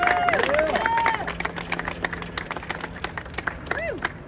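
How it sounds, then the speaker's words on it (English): Crowd clapping at a federal sentencing gathering, a burst of applause that starts fairly loud and thins into scattered individual claps, with whistles and raised voices mixed in near the start. "Y'all, a great round of applause for Attorney Lanita Baker."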